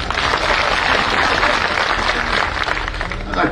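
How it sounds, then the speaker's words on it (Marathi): A crowd at an outdoor political campaign rally breaks into steady, loud applause, a dense wash of many hands clapping together without pause. "आता ज्यांनी टाळ्या वाजवल्या"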